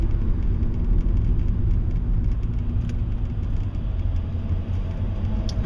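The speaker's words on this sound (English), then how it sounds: "Traffic is horrible, by the way." Steady road traffic rumbling continuously with car engines and tire noise, a dense, unbroken wash of passing vehicles nearby.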